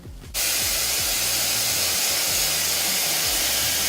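An ENBUTY water-ion supersonic hair dryer, set to hot and high, switches on after a short quiet moment and then blows a steady, loud, close airflow hiss with no break.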